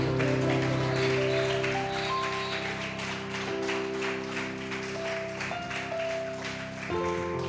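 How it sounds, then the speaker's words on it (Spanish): A church congregation claps in rhythm during a worship service, steady taps layered over sustained keyboard chords, moderately loud and continuous. "aplauso al Señor Jesús."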